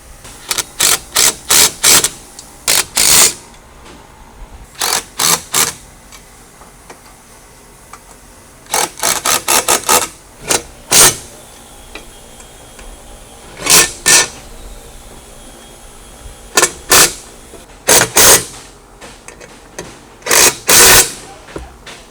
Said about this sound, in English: we can go ahead and tighten up our wake tower bar using a 5mm Allen wrench and a 13mm socket